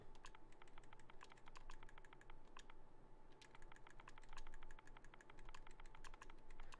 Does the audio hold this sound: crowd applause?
no